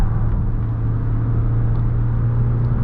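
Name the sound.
Mazda CX-70 PHEV accelerating on the highway, cabin noise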